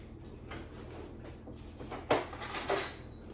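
Cutlery and dishes clink and rattle while a knife is fetched in a home kitchen, with low handling noise building to two sharper metallic clatters near the end.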